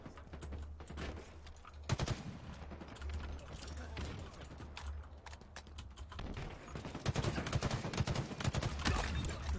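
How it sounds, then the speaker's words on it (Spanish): Rapid video-game gunfire, with bursts and single shots cracking over a steady low rumble for close to ten seconds, growing denser toward the end. "Ok, buenos tiros, esos tiros me cuesta hacerlos así"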